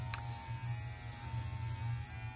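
A Kemei 1971 vintage T9 cordless hair trimmer runs steadily with a quiet, smooth low hum and a faint buzz, alone and close by.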